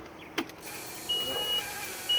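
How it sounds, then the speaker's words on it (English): A 2001 Sea Ray 225 boat's fuel pump cycles with a faint, thin electric whine that comes in short separate bursts over a low, steady background hum. "Fuel pump cycling."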